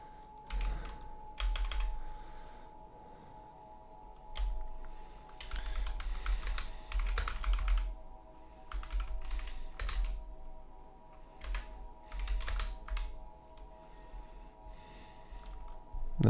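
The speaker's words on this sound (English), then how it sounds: "where's my percent button? I have a fucking Lord of the Rings keyboard" Keys clatter on a Lord of the Rings themed computer keyboard in quick irregular bursts with short pauses between, close and moderately loud, no voices.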